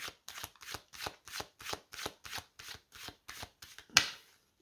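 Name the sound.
cards being shuffled to draw a card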